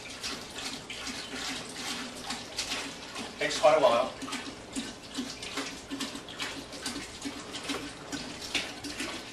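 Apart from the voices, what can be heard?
water being poured into a brewing pot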